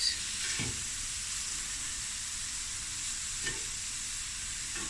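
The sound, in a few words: shrimp searing in a pan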